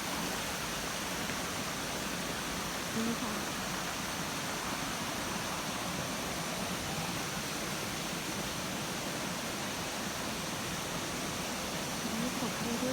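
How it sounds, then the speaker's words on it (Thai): Waterfall at the fifth tier of Erawan Falls in Thailand pours in a steady, dense broadband rush that fills the whole clip, with a voice speaking briefly over it. "อันนี้เป็นน้ำตกเรื่อยๆ นะคะทุกคน"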